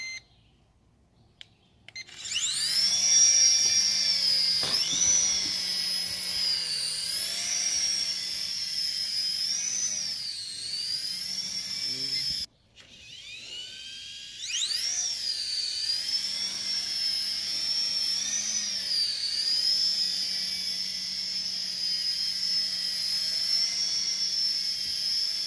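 A DeeRC remote control Apache helicopter takes off at one button press, its rotors spinning up to a loud high-pitched whine that rises and dips as it flies, briefly cutting out midway before resuming close by.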